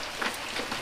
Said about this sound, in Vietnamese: Tới giờ vẫn còn mưa nữa nè.